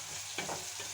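Cauliflower sizzles in a pan over a flame, a soft continuous frying hiss broken by a brief stirring scrape and clatter, quiet and close, with no talking.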